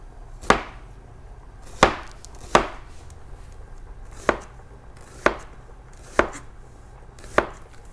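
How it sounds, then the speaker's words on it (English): An onion is sliced with a knife on a cutting board: seven sharp, crisp chops land at uneven intervals, each distinct and close, with quiet pauses between them. "and I start slicing"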